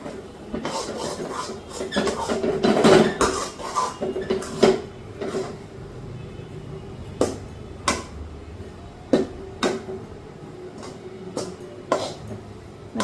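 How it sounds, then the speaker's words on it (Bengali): Kheer stirred vigorously in a pot for a Kali Puja sweet with hilsa belly gives irregular scraping clatters and knocks of the spoon against the pot, some sharp and close, over a quiet background. "এবারে ক্ষীরটাকে খুব ভালো করে একদম জোর মতন যাতে আসে ওটা পাক দিয়ে নিতে হবে"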